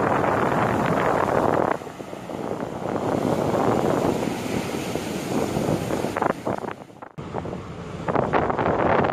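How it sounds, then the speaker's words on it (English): Rough surf crashes on the Gulf of Mexico shore, a loud continuous roar of breaking waves heavily buffeted by wind noise against the microphone, with a brief dropout near the end. "That's like get killed type waves sucked out into the ocean."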